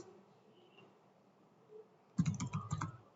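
Computer keyboard typing in a command-line setup: a quick close burst of several keystrokes after a quiet stretch, loud and alone.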